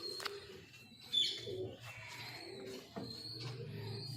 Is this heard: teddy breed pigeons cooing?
yes